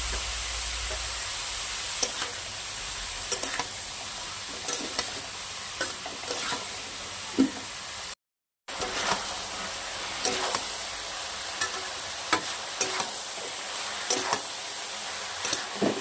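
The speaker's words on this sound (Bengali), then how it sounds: "আমি এটাকে খুব ভালো করে নাড়িয়ে নেব, ভালো করে ভেজে নেব।" Carrot and beet pieces frying in a pan, a steady loud sizzle and hiss with repeated scraping stir strokes throughout, briefly cut off midway, no talk.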